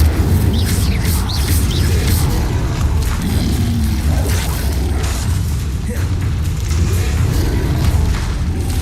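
An Incendio fire spell is cast in Hogwarts Legacy, a loud, sustained roaring whoosh with rumbling bursts that fills the whole stretch without a break.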